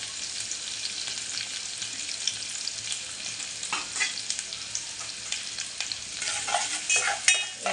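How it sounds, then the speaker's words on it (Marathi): Chopped onion and curry leaves fry for a tempering while being stirred, giving a close, continuous sizzle broken by scraping strokes that grow busier toward the end. "कांदा टाकून घेऊया फोडणीला"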